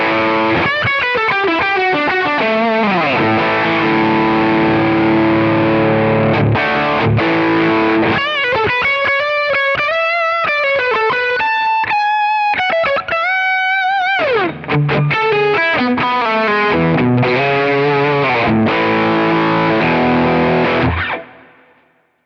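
Electric guitar played through a J.Rocket Melody overdrive pedal into a Tone King amp, loud and distorted, with sustained melodic lines and chords ringing alone before cutting off at the end.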